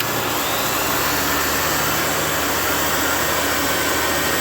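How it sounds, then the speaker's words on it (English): Black and Decker valve resurfacer (Sioux valve seat grinder) with its coolant pump running, a steady close-up motorized whir and hum with broadband hiss, continuous and unbroken. "There goes the pump. All right, look at that. There's our coolant coming out."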